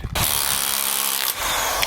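A hammer drill chisels at cement on the lower part of a barn buttress, giving a steady, loud, close grinding buzz that cuts out briefly near the end before starting again.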